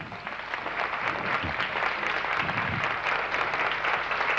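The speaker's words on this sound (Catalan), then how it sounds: "Un aplaudiment per al fill de Doña Teresa." Studio audience applause fills a Valencian TV variety show set in 1991, a dense, steady clapping that holds at full strength without a break.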